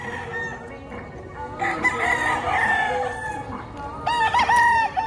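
Bull stag gamefowl roosters crow loudly and close by, several overlapping calls rising after a quieter start, with clucking and general farmyard noise between crows.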